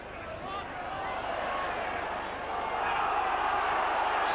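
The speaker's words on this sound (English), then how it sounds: "the Widnes section of the crowd boo Mr. Holdsworth" Spectators at a Widnes versus Warrington rugby league match boo the referee, a broad, sustained jeer from a large stadium crowd that swells slightly toward the end.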